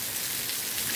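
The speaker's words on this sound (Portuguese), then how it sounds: "eu vou dar até uma paradinha pra tomar banho de chuva agora" Rain pours down on a home yard in Serra do Mel, Rio Grande do Norte, a dense, even hiss of drops striking the surface, steady and close with no voices.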